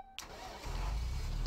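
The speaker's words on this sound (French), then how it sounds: "Je peux démarrer le moteur." Tractor engine starting in Farming Simulator 17, a short click followed by a low mechanical crank that catches into a deep, steady idle rumble, close and alone.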